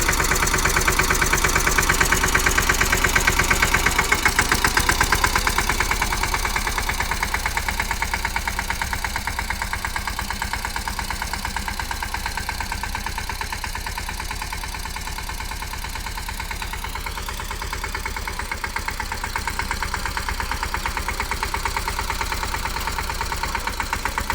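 A tractor engine idles steadily throughout, a continuous low rumble with a faint knocking pulse and mechanical vibration, close by and fairly loud, with no voices over it.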